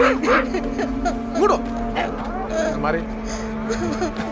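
A female dog barks and yips repeatedly at close range, mixed with people talking over it and a low steady hum underneath.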